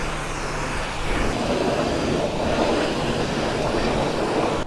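Pressure washer spraying and rinsing the wheels of a sportsbike in winter, a loud, continuous hissing roar heard up close and alone, steady throughout.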